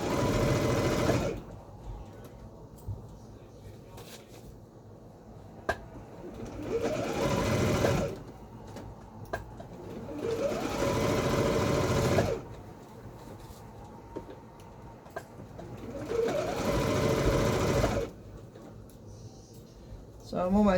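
A sewing machine stitches the elastic top hem of a garment in repeated loud bursts of a few seconds each, with quieter pauses between runs.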